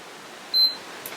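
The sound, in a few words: console beep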